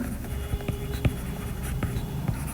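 A pen scratches across a surface while working through a maths problem, making quiet, scattered strokes and light taps against a soft background hiss.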